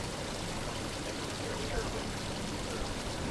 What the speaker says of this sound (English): softened by the rustling of leaves and the gurgling of fountains and waterfalls